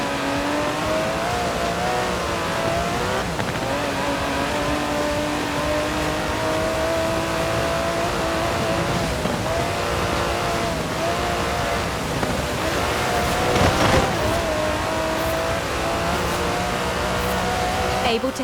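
In Forza Horizon 4, an Aston Martin DB11's 5.2-litre twin-turbo V12 revs and roars continuously at close range, rising and falling in pitch, with a voice talking over it.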